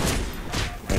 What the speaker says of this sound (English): Crap, why did I fall down there?